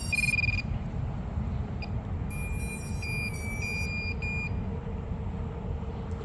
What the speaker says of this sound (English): I like the way these larger buzzers sound pretty cool